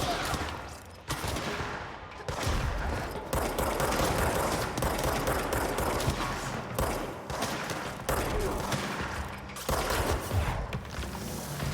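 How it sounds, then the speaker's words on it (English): Dense, continuous gunfire from a ranger enemy in the video game Control, with overlapping bursts and booms filling the space loudly, broken by a few brief pauses. "The ranger's shooting at the guy who's on my side, I think."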